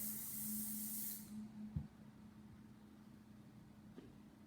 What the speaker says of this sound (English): Let's go ahead and do a little hairspray.